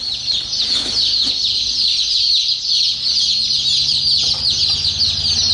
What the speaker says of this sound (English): Boy, there is quite a few chickens in there.